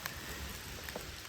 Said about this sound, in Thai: เสียงฝนครับพี่น้อง